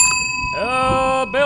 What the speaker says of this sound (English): Bell has been rung at 7th